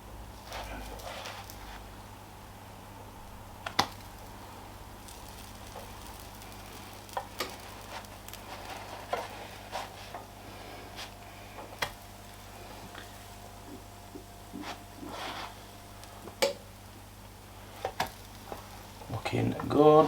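American pancakes cook on a Ninja Airfryer Grill XL with a faint low sizzle, punctuated by scattered clicks and taps of a utensil as they are cut and flipped, ending with a louder clatter; a voice talks intermittently.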